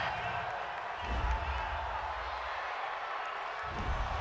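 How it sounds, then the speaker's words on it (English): A football stadium crowd at a New Orleans Saints versus Jacksonville Jaguars game reacts to a penalty call with a steady, distant roar of disapproval that swells and eases across the stretch, with a commentator's voice faintly over it. "Well, this crowd does not like that call."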